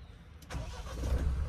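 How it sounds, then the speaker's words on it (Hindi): A car cold-starts on a freezing night near two degrees in the hills on the Shimla to Narkanda road. A brief crank quickly catches into a rising, rumbling engine close by. "कोल्ड स्टार्ट करते हैं गाड़ी का।"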